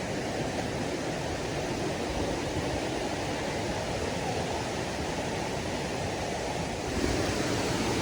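A small forest stream with low water flows nearby in a steady, close rushing wash that holds even throughout, with no voices.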